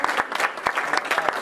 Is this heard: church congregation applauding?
yes